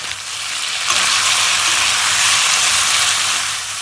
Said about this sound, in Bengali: কড়াইত মাংস গিলা নাড়াচাড়াই দিয়ে দিব হলুদ গুঁড়া